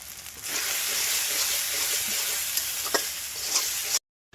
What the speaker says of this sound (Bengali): এই সব মশলাগুলোই আমি তেলের মধ্যে একটু ভেজে নিলাম